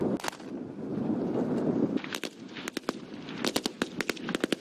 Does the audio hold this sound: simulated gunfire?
yes